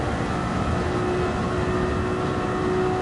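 A car engine in a racing video game holds a steady, loud, dense drone that hangs at an even pitch for the whole stretch, with no voices over it.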